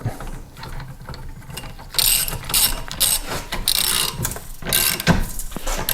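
A ratchet tightens an exhaust pipe clamp on a Jeep Liberty turbo diesel, giving loud, close, rapid clicking in several bursts with short pauses between them.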